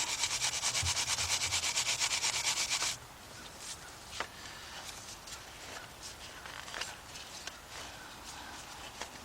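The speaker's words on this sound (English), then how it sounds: "Get our wire brush." A wire brush scrubs hard at the engine timing cover of a Chrysler Sebring, a loud, close, rapid rasping for about three seconds, then fainter scattered scraping and handling noises.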